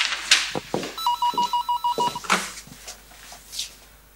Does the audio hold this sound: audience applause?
no